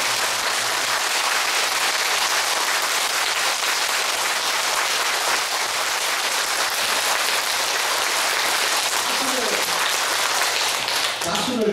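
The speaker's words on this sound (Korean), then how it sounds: "박수를 한번 세게 치보세요" A crowd at a Korean cooking lesson claps loudly and continuously, a dense, even wall of applause that holds steady for the whole stretch.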